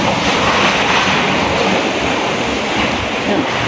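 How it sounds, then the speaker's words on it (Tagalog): Loud, steady roaring typhoon wind rushes continuously outside during a Signal No. 4 storm in Masbate City, Philippines, a dense broadband storm noise with no pauses. "Buhawi sa labas."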